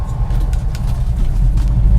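A Honda 4x4 Japanese mini truck with all-time four-wheel drive drives along, its engine a steady, loud, close rumble throughout with no talk over it.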